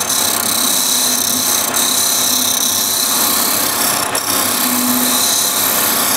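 A one-inch skew chisel shears wood spinning on a lathe, a loud continuous broadband hiss and rumble of the cut with the machine's steady drone underneath.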